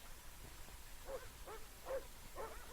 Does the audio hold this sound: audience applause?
no